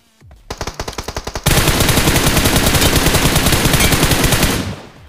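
Automatic gunfire in BGMI (PUBG Mobile), starting with a short burst of rapid separate shots, then a dense, loud continuous stream of fire that cuts off near the end.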